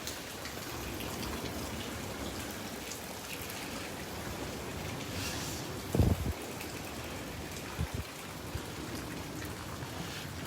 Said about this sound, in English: I don't know how long this rain's gonna last.